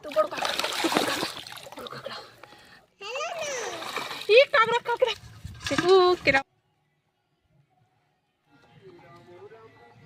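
A live fish splashes and thrashes in water in two loud bursts separated by short pauses, close and vigorous, followed by silence and faint voices; someone speaks during the splashing.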